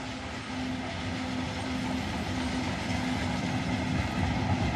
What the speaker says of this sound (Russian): Еще один грузовой поезд едет.